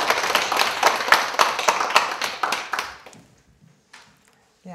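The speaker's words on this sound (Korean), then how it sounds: "그럼 공공학번 황다연 본부를 큰 박수로 맞아주세요." An audience at a university humanities lecture claps to welcome the lecturer: lively, close applause for about three seconds that stops abruptly, leaving near silence with a faint tap or two.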